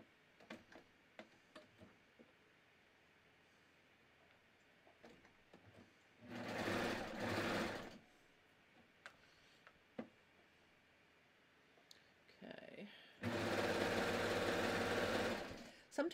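Two bursts of close sewing machine stitching run along the side seam of knit pull-on pants, the second longer, between quiet stretches of fabric handling and light clicks.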